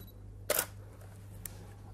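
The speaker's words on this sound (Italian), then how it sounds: "faccio il mio scatto, attivo il flash e vediamo che cosa succede" A single sharp shutter click from a single-lens reflex camera firing with flash during a photography lesson, near and crisp in an otherwise quiet room with a steady low hum and a faint tick afterward.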